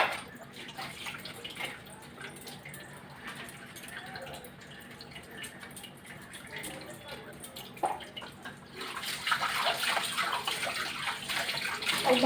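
A tap runs for hand washing, water splashing and trickling at low level that swells into a louder steady gush near the end, with faint clinks.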